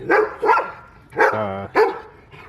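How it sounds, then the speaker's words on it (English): Dogs barking outside a home garage: four loud, sharp barks at uneven intervals, with a whining tone mixed into one of them, nearby and clear. "These goddamn dogs"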